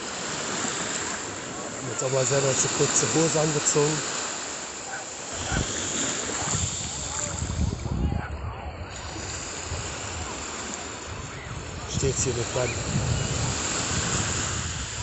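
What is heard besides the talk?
Mediterranean Sea waves breaking on the shore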